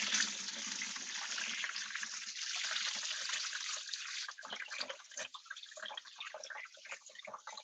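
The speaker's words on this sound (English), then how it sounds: "go ahead and wash your hands so they're not sticky" Hands being washed under a running tap, a steady hiss of flowing water that gives way to splashing, trickling and dripping as the hands move through the stream, fairly quiet and close, with no talking.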